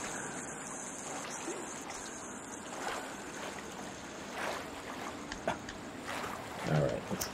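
A character wades through cold water in The Forest survival game, producing a continuous soft sloshing and splashing wash with a few louder swells toward the end, no voices over it.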